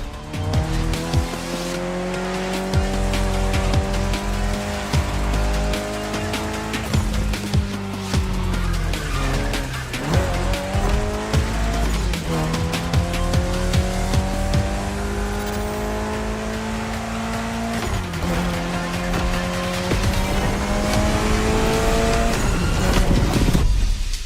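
Mitsubishi Evo X racing in a driving video game, loud continuous engine revving with rising and falling pitch through gear changes and repeated tire squeals, no talk.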